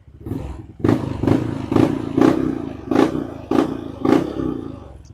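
A motorcycle engine idles, then gets about eight sharp throttle blips in a steady rhythm during a throttle-response test after its idle speed is set to standard. The blips are close and loud, each one quickly falling back to idle.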